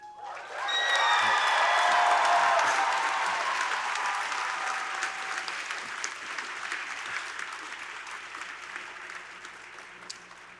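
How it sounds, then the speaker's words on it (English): Audience at a university graduation ceremony breaking into applause, a dense wash of clapping swelling quickly and holding loud, then slowly thinning out, with a few cheers near the start. "I would like to applaud you all in the room"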